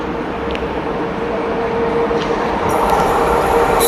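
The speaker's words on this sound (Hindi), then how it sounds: "ट्रैक साउंड सुने" The Bihar Sampark Kranti Express, hauled by a WAP-7 locomotive, rolls past close by with a loud steady rumble and rattle of wheels on the track, growing slightly louder with a sharp high squeal near the end.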